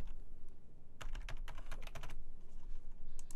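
Typing on a computer keyboard while filling in details on an online shop order form: quick clusters of close, crisp key clicks with brief pauses between bursts.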